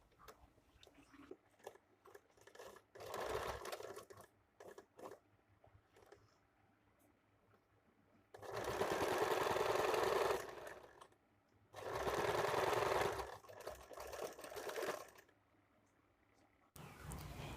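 A sewing machine joins the shoulder seams of a sleeveless blouse in several bursts, two short and two longer, separated by quiet stretches of faint handling and clicks.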